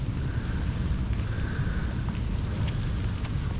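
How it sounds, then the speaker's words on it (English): Steady rain falls outdoors during a hunt, a dense constant hiss with a heavy low rumble that stays even in loudness throughout, with no voices. "We're still getting rained on."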